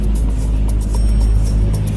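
A car pulls up outside a house in South Philadelphia on a stormy evening, its engine a steady, close, low rumble that fills the short stretch without talk.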